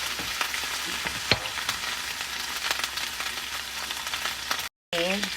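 Oil sizzling and sautéing in a pan while cooking sotanghon, a continuous frying hiss with occasional crackles, broken by a brief silent gap near the end.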